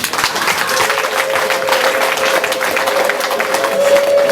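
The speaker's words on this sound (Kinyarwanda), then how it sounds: "Muha amashyi rero" Wedding guests applaud together at a celebration, a steady, close crowd of clapping hands that holds throughout with a faint sustained tone running underneath.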